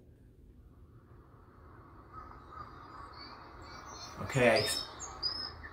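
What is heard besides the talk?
birds outdoors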